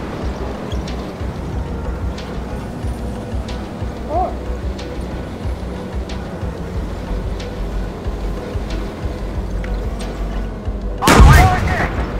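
An M60A1 tank's cannon fires in the PC game Gunner HEAT PC, one sharp booming blast near the end over a steady rumbling engine and battlefield backdrop.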